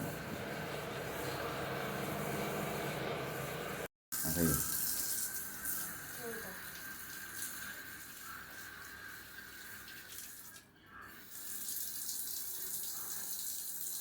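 A tap runs steadily into a sink, a continuous splashing rush that briefly cuts out and resumes, with faint voices in the background.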